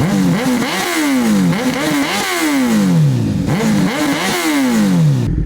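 A loud, close motorcycle engine with a Hyperflow exhaust revs repeatedly, each rise in pitch falling back before climbing again in a steady rhythmic pattern, with a raspy exhaust note.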